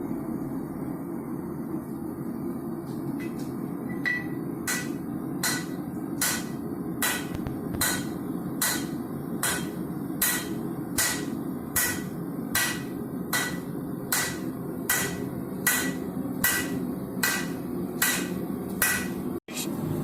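A hammer strikes a Damascus steel billet during forge welding, about twenty sharp, evenly spaced metallic blows ringing out in a steady rhythm over a constant forge roar.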